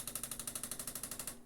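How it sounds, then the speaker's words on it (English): A Bosch Tassimo coffee machine pumps and heats water with a fast, even pulsing drone, about eight beats a second, close and fairly quiet, with no talking. "Right, so it's putting the water in,"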